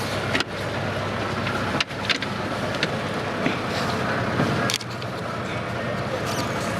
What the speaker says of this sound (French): votre moteur il est tellement puissant quoi